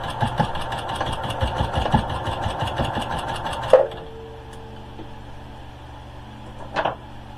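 A sewing machine fitted with a walking foot stitches through a thick, bunched towel in fast, rhythmic, close, moderately loud bursts, then stops with a clunk, and there is a brief second whir near the end.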